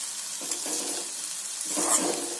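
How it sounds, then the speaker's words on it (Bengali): Malabar spinach seeds frying in hot oil in a pan, with a steady close sizzle and occasional scraping stir strokes, no voices. "রেডি হয়ে গেছে আমার পুঁই শাকের বিচি ভাজা"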